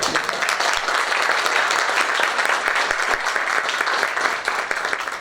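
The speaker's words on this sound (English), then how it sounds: "We'll give you another round of applause." An audience at a school board meeting breaks into loud, steady applause, a continuous wash of many hands clapping throughout with no pause.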